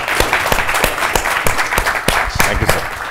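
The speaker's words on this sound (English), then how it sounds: "Can we give him a big round of applause and close the session?" Loud, close applause from an audience closing a conference session on India–Japan Indo-Pacific partnership, continuous dense clapping throughout.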